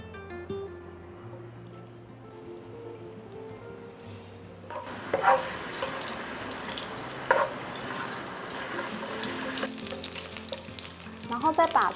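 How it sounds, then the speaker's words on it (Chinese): Ginger dry-frying in Sichuan peppercorn oil in a wok for vegetarian kung pao: a low, faint hum first, then a loud, bright sizzle bursts in and crackles steadily up close, with spiky stirring hits throughout. "好，那我们就用干煸花椒的油呢，"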